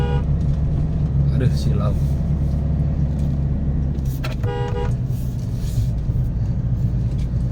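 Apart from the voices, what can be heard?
car horn honking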